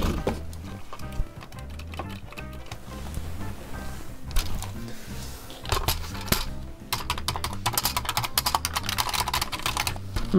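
Keys on a Commodore 64C keyboard are pressed, giving close, irregular bursts of clicky tapping with short pauses between runs of keystrokes.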